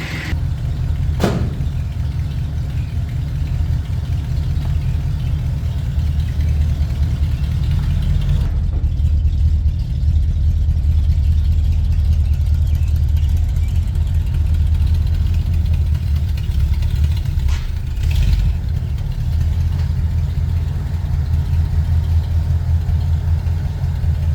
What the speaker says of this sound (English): move this tractor out of the way